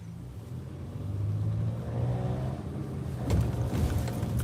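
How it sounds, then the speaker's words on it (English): A car driving around Atlantic City, a low steady engine rumble from inside the cabin that swells briefly as it picks up speed near the end. "Just driving around Atlantic City."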